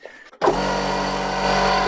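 A second air compressor for a 205 VR6 Turbo project starts abruptly after a short quiet lead-in and then runs loud and steady, a droning motor hum with a whining tone that holds without a break.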